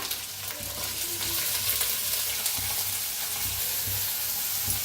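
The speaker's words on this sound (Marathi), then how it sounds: "तर छान असं भाजून घेऊया" Finely chopped onion, garlic and chili frying in a pan with a pinch of asafoetida, a continuous dense sizzle of oil, steady and close, with no voices.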